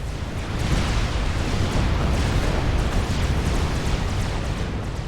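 Continuous loud rumbling blasts and crackling bursts from explosions in the strategy game Supreme Commander fill the whole stretch, dense and unbroken, with no talking.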